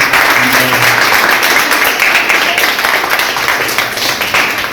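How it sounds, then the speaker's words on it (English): Loud, continuous clapping from an audience at a Class 10 farewell ceremony at Mount Carmel High School in Tekari, Gaya, dense and sustained with a faint hum underneath. "please clap for their achievements"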